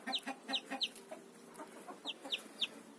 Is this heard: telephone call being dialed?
no